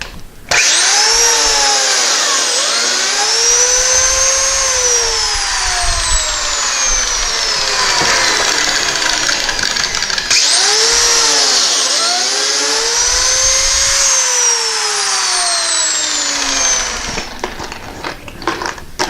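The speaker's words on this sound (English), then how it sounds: "This is a plate joiner, or biscuit joiner. It has a little saw blade in there. You plunge that in, and that cuts a groove" A plate joiner, or biscuit joiner, with its small saw blade whines at high speed as it plunge-cuts grooves in wood for a fireplace mantel, two long loud cuts with the motor pitch dipping under load, no talking.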